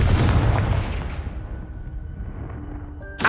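The Confringo explosion spell in Hogwarts Legacy bursts loudly at the start and rumbles as it decays, with a sharp second burst at the very end.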